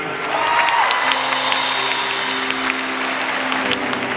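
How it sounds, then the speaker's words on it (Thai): Audience applause fills a fan concert hall, steady and fairly loud, with a few whoops and a faint musical tone underneath for the whole stretch. "ขอเสียงปรบมือ"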